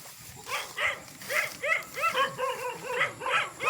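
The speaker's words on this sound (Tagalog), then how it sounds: "Ang daming aso." Many dogs on a road bark close by in a rapid, overlapping string of about a dozen sharp barks and yips that never let up.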